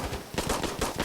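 Rapid pistol gunfire in the video game Insurgency Sandstorm, a quick run of about six loud close shots in steady rhythm.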